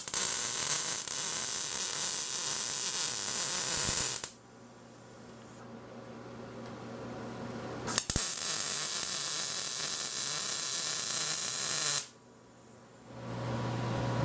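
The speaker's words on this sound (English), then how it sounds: "Really happy with that Vulcan welder I got. Welds thin wall steel really nicely." A Vulcan welder lays beads on thin wall steel during a motorcycle motor swap, its steady crackling hiss running in two long bursts with a quiet pause between them.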